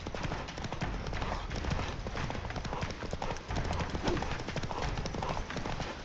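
A horse gallops in The Witcher 3, its hooves drumming out a rapid, continuous clip-clop rhythm at close range with a faint snort, while a voice speaks briefly over the hoofbeats.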